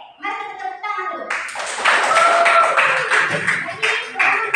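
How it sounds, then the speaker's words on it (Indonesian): A school class claps hands together after a short voiced sound, with a burst of many hands that rises and continues unevenly, some louder individual claps standing out near the end. "mari kita tepuk tangan dulu"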